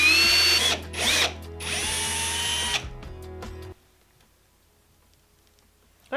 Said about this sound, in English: we need to drill a hole in here so our flower fits in. I'm using a 6mm wood drill bit